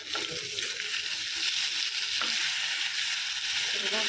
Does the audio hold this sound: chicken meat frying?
yes